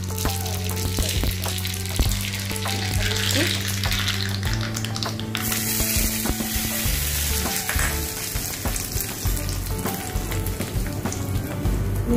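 Loud, continuous crackling sizzle of mustard seeds and curry leaves popping in hot oil for coconut chutney tempering, steady throughout with no talking.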